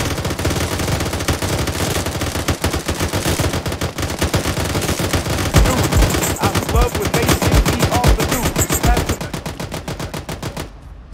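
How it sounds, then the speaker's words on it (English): Sustained gunfire fills a firefight in the video game Arma 3, with rapid machine-gun bursts and single shots overlapping almost continuously. It is loud and close, then cuts off abruptly at the end. "Mr. Gunnerman, you got shot."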